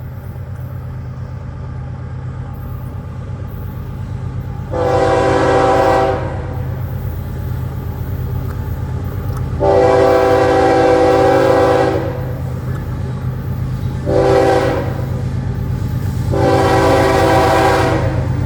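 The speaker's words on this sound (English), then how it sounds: "Up close and personal with the Florida East Coast Railway." A Florida East Coast Railway train rumbles past up close, with its horn sounding in four loud blasts, two long and two shorter, over a steady low rolling drone of the wheels and engine.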